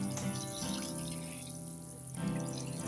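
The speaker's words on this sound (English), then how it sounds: "it's just time to water this basket" Water poured from a can into a planted basket of sown carrot seeds in compost, a steady splashing stream that dips briefly midway, then picks back up, with no talking.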